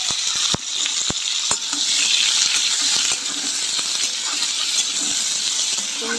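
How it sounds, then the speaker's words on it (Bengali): Pumpkin and potato pieces frying in hot oil with turmeric and salt, giving a continuous close sizzle broken by sharp scrapes and knocks of a stirring utensil against the pan. "হলুদ লবণ দিয়ে সবজিটা ভালো করে ভেজে নেব।"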